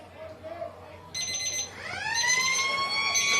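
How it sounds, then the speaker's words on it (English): Three-quarter time siren at a country Australian rules football match between Boxwood Hill and Lake Grace/Pingrup, a loud rising electric wail that swells and holds, sounding out over a quieter background of voices. "And that's the three-quarter time siren."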